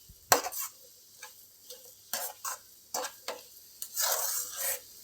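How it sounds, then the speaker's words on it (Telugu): A spoon scrapes and stirs a coconut laddu mixture in a pan, giving short, close rasping strokes in an irregular rhythm with quiet gaps between them, ending in a longer scrape. "1 నిమిషం పాటు కలిపేసుకుందాం."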